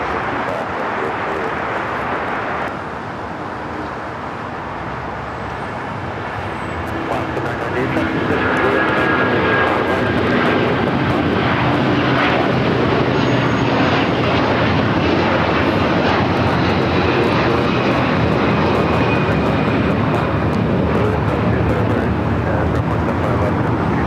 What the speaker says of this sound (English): Calling in Airbus 320 on the 2-mile final